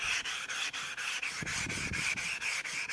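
A knife blade rasps across an abrasive sharpening stone in steady back-and-forth strokes, about five per second, close and even, with no voices.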